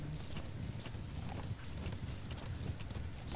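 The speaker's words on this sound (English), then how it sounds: "Look at my horse. My horse is amazing." Horse hooves clip-clopping in the game Metal Gear Solid V: The Phantom Pain, a steady rhythmic trot that is faint and continuous under ambient game noise, with no talk.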